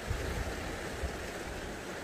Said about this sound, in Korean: 동해안 파도 소리는 들어봐도 틀립니다